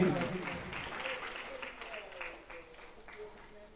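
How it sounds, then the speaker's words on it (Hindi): Audience applause at a community marriage-introduction gathering, clapping strongest at the start and thinning out as it fades, moderately distant with some scattered individual claps standing out. "जोरदार तालियां लीलाजी।"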